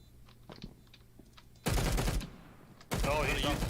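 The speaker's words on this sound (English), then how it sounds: "Just waiting for that gunshot in the distance and see." Bursts of gunfire in Counter-Strike: Global Offensive, two loud dense volleys of rapid shots after a quieter stretch with faint footsteps.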